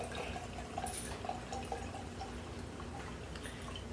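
Cheap wine is poured generously into a glass, a soft, continuous liquid trickle and splash heard close up over a constant background hiss, with no speech.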